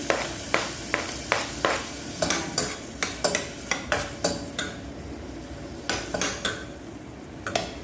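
A spatula knocks and scrapes against a pan as onions, garlic and ginger sauté in oil for a chicken dish, with a steady run of sharp clanks over a soft sizzle.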